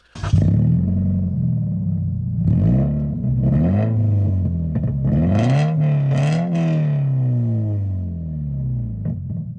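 Toyota GT86 / Subaru FRS engine revving loudly and continuously up and down through the rev range, close and alone, with no one talking over it.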